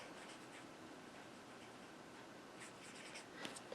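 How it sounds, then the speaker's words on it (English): A brush-tip marker rubs across paper in small circular strokes while colouring leaves on a Christmas card, a soft, close, continuous scratchy scrubbing with a few sharper ticks near the end. "if you color in with the brush tip in a circular motion, it'll kind of blend those"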